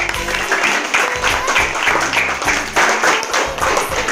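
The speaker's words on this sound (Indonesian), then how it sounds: "tepuk tangan buat Audrey." Sixth-grade students applaud in a classroom, loud uneven clapping close by that comes in choppy bursts over the whole span.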